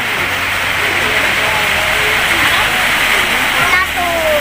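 Rain pouring steadily at a resort, a dense constant hiss with a low hum beneath and people talking under it.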